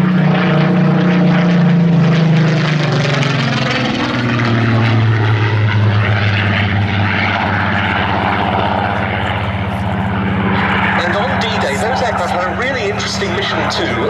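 Supermarine Spitfire Mark 14 flying past at an air display marking the D-Day anniversary at Duxford, its piston engine droning loud and steady, rising then easing in pitch as it passes, with a voice talking over it.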